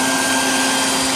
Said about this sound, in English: man with the beer holds the vacuum and